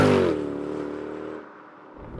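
A Mercedes-Benz CLK 63 AMG Black Series with a 6.2 litre naturally aspirated V8 revs in a loud, rich harmonic roar that falls away after about a second and a half, leaving a quieter rumble.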